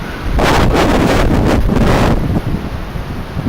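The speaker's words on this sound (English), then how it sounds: "the wind here is just absolutely atrocious" Heavy wind buffets the microphone in loud, roaring gusts that ease slightly toward the end, with no voices.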